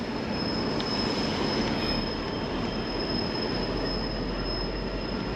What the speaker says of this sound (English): A freight train coming in.